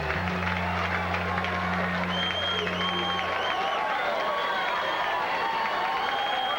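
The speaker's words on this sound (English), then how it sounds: "George Foreman getting ready to enter the ring, and the crowd will respond" A boxing crowd at a heavyweight bout in Marshall roars as George Foreman enters the ring, a continuous dense wash of cheering and clapping with a commentator's voice running over it and a low hum fading out partway.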